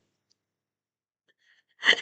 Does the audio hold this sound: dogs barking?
no